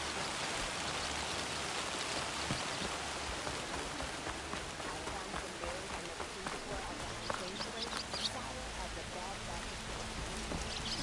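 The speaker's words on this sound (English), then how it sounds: "rain's done" Rain falls in the video game Horizon Forbidden West. It makes a continuous, quiet hiss of patter and drops, with scattered light tapping over the steady wash.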